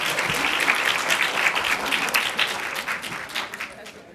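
Audience applause fills a city council public comment session in Raleigh, a steady broad wash of many hands clapping that holds for several seconds and slowly thins toward the end.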